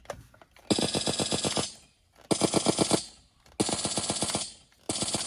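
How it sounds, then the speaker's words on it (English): Suppressed automatic rifle from the Faction Wars video game firing in four rapid bursts, each a fast stuttering chain of muffled shots separated by short pauses, loud and close with no talking. "And it's a silenced automatic rifle."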